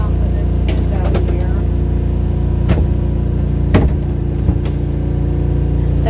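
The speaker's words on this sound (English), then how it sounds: "That loud noise you're hearing is the furnace, the gas furnace on this camper." Gas furnace running in an RV camper, a loud, steady mechanical drone with a low hum throughout and occasional brief clicks and knocks over it.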